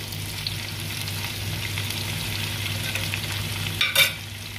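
Garlic browning with chopped tomatoes in a hot pan, a steady close sizzle and crackle with a short burst of stirring or spattering near the end, no talk.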